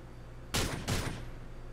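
Gunfire in GTA IV with the LCPDFR police mod, shooting apart an enemy's cover: two loud, close bursts of rapid shots in quick succession, with a short ringing tail after them.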